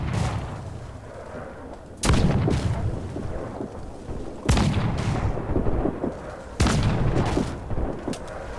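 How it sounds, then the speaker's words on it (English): Three loud, booming blasts from a ship's swivel gun in Assassin's Creed 4, evenly spaced about two seconds apart over a steady rumbling sea-and-wind background, each blast with a sharp crack and a decaying roar. "Okay, so man, the swivel gun."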